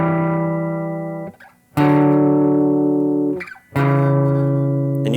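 Harmonized electric guitar lines from a song, two sustained bright tones in a minor key, played in three long phrases separated by brief pauses, loud and close with no talking.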